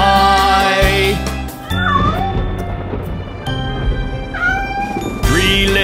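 Cartoon kittens meow twice in a nursery-rhyme song, each a short rising cry over steady upbeat music with bass and a sung melody.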